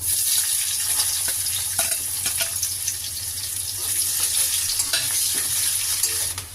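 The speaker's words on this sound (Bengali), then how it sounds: "পেঁয়াজগুলো আমি লাল লাল করে ভেজে নিয়েছি" Sliced onions fry in hot oil with a bay leaf and five-spice seeds, giving a loud, continuous sizzle with occasional stirring scrapes and clinks, close and without talk.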